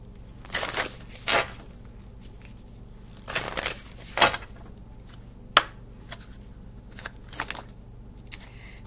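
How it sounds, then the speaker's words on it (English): A deck of tarot cards is shuffled up close in several quick riffling bursts, separated by quiet gaps and softer flicks of cards. No one speaks. "I'm gonna give this a shuffle."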